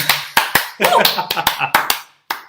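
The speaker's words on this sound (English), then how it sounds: "And I think that merits an applause." A few people clap in short uneven bursts in a studio, a handful of sharp close claps with brief gaps, ending with one isolated clap after a pause.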